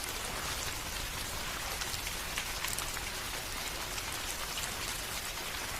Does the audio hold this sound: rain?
yes